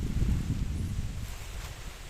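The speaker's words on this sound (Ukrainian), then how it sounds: "Ой, дивіться, який в нас вітер." Low, blustery wind buffets the microphone with a rumbling rush, strongest at first and easing slightly, no voices.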